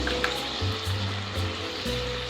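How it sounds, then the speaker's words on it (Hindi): Half a cup of yogurt goes into a pan of sizzling masala with coriander powder, turmeric and red chili powder for an egg and chickpea curry, giving a moderate, steady frying hiss over a low hum. "1/2 प्याली दही डालूंगी"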